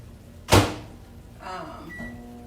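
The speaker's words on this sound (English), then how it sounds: "So I'm putting some vegetables in the other microwave" Microwave oven being loaded with vegetables for steaming during meal prep, with a sharp door clunk near the start followed by a low hum and a short beep-like tone as it starts running.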